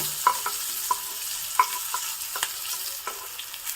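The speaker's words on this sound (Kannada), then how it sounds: "ಈಗ ಸಣ್ಣದಾಗಿ ಹೆಚ್ಕೊಂಡಿರೋ ಈರುಳ್ಳಿ ಹಾಕ್ತಾ ಇದ್ದೀನಿ" Finely chopped onion goes into a hot tempering and fries with a continuous sizzle, punctuated by quick metallic taps and scrapes of a spoon stirring in the pan, close up.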